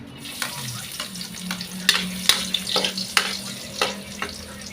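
Garlic sautéing in a hot pan, a close crackling sizzle with repeated sharp spatula scrapes and taps against the metal, clustered in quick bursts.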